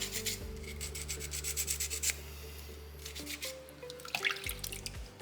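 A small soapstone owl carving is rubbed with grit-coated fabric sandpaper, making a series of rasping strokes close up, with a steady hum underneath and a few light knocks.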